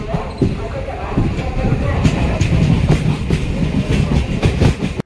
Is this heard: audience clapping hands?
no